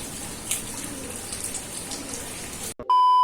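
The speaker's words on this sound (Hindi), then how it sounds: "आज ही बारिश आ गई" Morning rain falls steadily, a dense wash of drops pattering on surfaces close by, then cut off abruptly by a short electronic tone.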